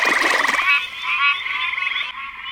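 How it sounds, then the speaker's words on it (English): Spring peeper frogs call during the breeding season in a close, loud chorus of high, rapid trilling peeps and croaks that overlap continuously. "this is a spring peeper right here"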